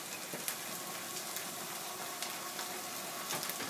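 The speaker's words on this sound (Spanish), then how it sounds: "Hay que mezclarlo bien y hay que freírlo un par de minutos." Black chickpeas fry with masala and green chili pepper in a Pakistani-style curry, giving a steady, dense sizzle with faint crackles and pops throughout and no talking.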